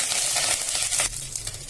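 Curry leaves crackle and sizzle steadily in hot sesame oil with cumin seeds while a Tamil yam tamarind curry is cooked. The hiss is close and continuous and eases slightly partway through.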